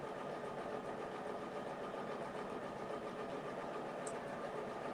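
A multi-needle embroidery machine stitches out a mug rug, laying rows and outlines before filling in, with a steady, rapid mechanical chatter that runs evenly and close throughout.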